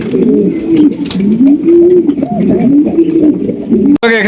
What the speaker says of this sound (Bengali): রয়েছে আরো এক জোড়া মুন্ডি কবুতর